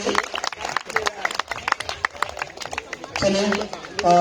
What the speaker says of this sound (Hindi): क्या बात है, तालियां होनी चाहिए।